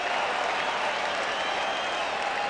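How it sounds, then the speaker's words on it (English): Baseball crowd at a Tigers versus Red Sox game reacts after a batter swings, misses and falls, a dense continuous roar of cheering and jeering from a packed stadium, steady and loud throughout. "And the crowd giving it to him right now."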